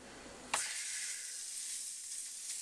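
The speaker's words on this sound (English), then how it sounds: "The skillet is on full power. I'm going to let that side sear" A wild-caught salmon fillet seasoned with kosher salt and black pepper hits coconut oil in a skillet on full heat, bursting into a sudden loud hiss that settles into a steady, even sizzle.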